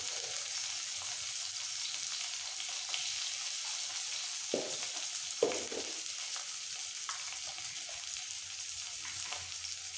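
Steady hiss of frying in hot oil with salt and turmeric, continuous and fairly loud, broken by a few soft scraping stirs of a spoon around the pan; no one speaks.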